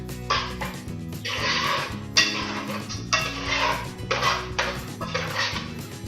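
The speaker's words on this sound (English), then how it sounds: "So I'm gonna go ahead and give my oatmeal a nice stir." Oatmeal is stirred in a pot on the stove with a spoon that scrapes and clanks against the pot in rhythmic bursts of strokes, close and fairly loud, with no talking.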